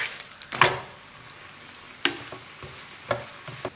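Thin rolled flatbread dough is flipped in a preheated pan and sizzles, with a few sharp handling knocks and scrapes over a steady low frying hiss, close up and without speech.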